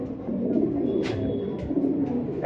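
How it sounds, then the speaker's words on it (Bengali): Mundian pigeons coo in repeated soft, low throaty phrases over a steady background murmur, with a couple of brief higher bird calls mixed in close by. "কবুতরের কি ডাক মাসাল্লাহ"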